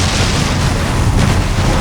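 A loud, heavy booming explosion in Far Cry 3 rumbles with dense crackling noise, sustained and close.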